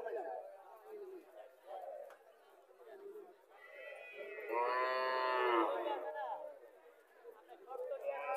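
Desi dairy cows, including Sahiwal crossbreeds, moo repeatedly at a cattle sale, with one long loud low call standing out midway, while people chat nearby throughout.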